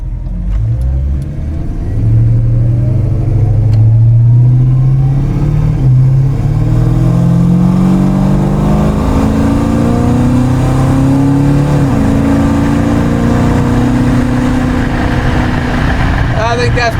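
A 1936 Plymouth Coupe's engine pulls hard on the road, its loud, steady drone rising in pitch as the car accelerates toward about 80 mph, heard from inside the car.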